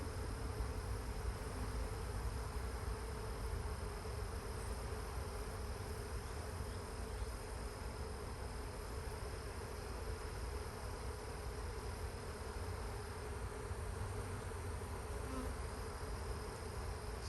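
Bees hum around the hives at an apiary, a faint, even drone that holds steady without pause over a low background hiss, with no voices.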